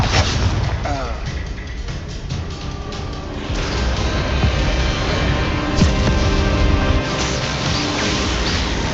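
Confringo, a blasting spell in the video game Hogwarts Legacy, goes off as a loud, booming explosion with a rumbling, dense roar that swells midway and lingers through the whole stretch.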